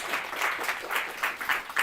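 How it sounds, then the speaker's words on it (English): An audience in a room applauds a speaker, with short, fairly close, moderately loud bursts of clapping for about two seconds. "round of applause for Vlado"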